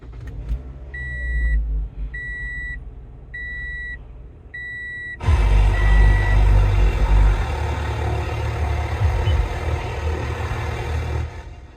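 A 2014 Toyota Corolla: four evenly spaced warning beeps sound, then the engine cranks and catches, settling into a loud, steady idle rumble that continues until near the end.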